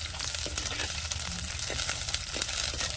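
Carrots and beans sizzle steadily while roasting in a pan over a wood-fired village stove, a continuous close frying hiss with faint scraping, no talk.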